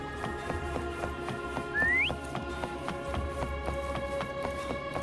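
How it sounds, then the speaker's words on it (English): A single rising whistle in the game Wuthering Waves rings out briefly over steady electronic game music with a ticking beat. "Try whistling."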